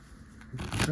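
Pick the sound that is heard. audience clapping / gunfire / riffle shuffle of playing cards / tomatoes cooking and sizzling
riffle shuffle of playing cards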